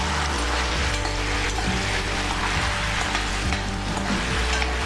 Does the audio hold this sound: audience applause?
no